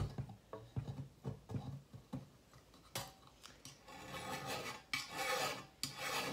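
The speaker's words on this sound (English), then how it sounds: "I just wanted to show you just a couple of the steps of filing" A half round file rasps across a metal jewelry piece in quick, close strokes. Shorter scrapes at first give way to longer, louder grinding passes.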